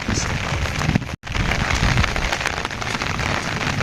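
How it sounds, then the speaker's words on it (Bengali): Steady rain patters down across a village, a dense continuous hiss of drops on surfaces broken by one brief dropout, with no voices. "এখানে ঘুরে ঘুরে বৃষ্টি হইতেছে"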